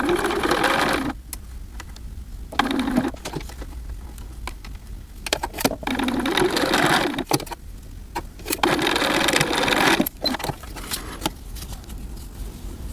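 A sewing machine hems the curved leg edge of a bodysuit in several bursts of rapid stitching, each run stopping briefly before starting again, loud and close with no talking.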